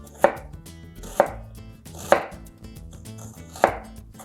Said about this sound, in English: I'm gonna say about 1/5 of an onion, and we're gonna mince it really,